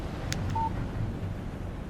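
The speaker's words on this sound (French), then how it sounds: "Un SMS de Barry" A short electronic phone message alert chimes once in Alan Wake Remastered, a brief clear tone over a low background rumble.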